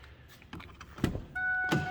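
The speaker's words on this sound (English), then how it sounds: "power windows" Electric windows on a 2006 Ford F-250 Super Duty pickup whirring up and down, a short motor hum with clicks at the start and finish of each stroke, close by and fairly quiet.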